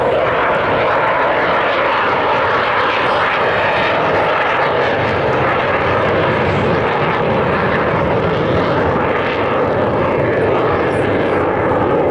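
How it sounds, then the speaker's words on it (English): An Avro Vulcan jet bomber with Olympus engines makes a flypast at the Scottish Airshow 2015, its loud, dense engine roar sustained and overpowering for the full twelve seconds. "The one and only Avro Vulcan."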